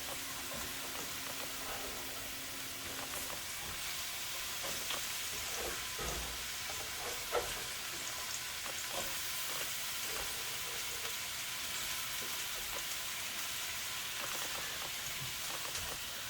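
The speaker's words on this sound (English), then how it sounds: "red onions are going to take a little longer to saute" Red onions saute in a pan with a faint, steady, rain-like hiss of sizzling that runs throughout, with only small crackles rising from it.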